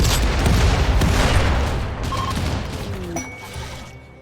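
Video game turrets firing in a dense, continuous barrage of booming shots for a few seconds, then tapering off into quieter rumble.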